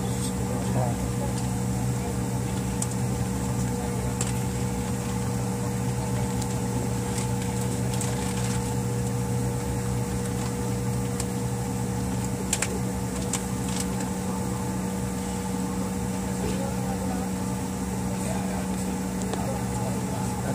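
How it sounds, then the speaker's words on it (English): Garuda Indonesia airliner on flight GA 264 from CGK to BWX taking off, heard from inside the cabin as a steady, loud engine drone and rumble throughout the run, with people talking over it. "We are gonna take off, guys. Woo, we are in the runway, guys."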